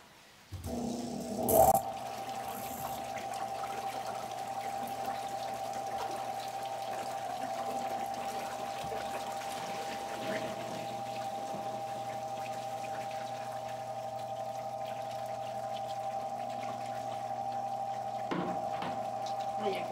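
A small tub-style washing machine churns homemade liquid soap, a steady motor hum with sloshing water that runs evenly throughout at low level, starting with a brief clunk and splash near the beginning.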